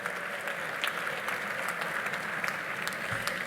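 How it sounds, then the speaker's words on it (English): Sustained audience applause at a nursing graduation ceremony, a thick continuous wash of clapping from a large crowd with a few sharper individual claps standing out, steady throughout. "they all deserve a proper round of applause for this"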